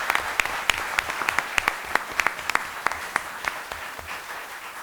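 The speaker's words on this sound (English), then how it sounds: "Let's give them a big round of applause." A crowd at a town council meeting breaks into steady applause, many hands clapping together at moderate volume with a few sharp individual claps standing out, and no voices over it.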